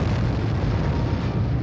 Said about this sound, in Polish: Najwyraźniej jeden z komputerów źle odczytał ciśnienie i cały odcinek gazociągu wybuchł.